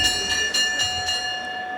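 A boxing ring bell rings at the close of a title fight won by Terrence Crawford, sounding as a sustained metallic tone with repeated strikes over arena crowd noise, without talk.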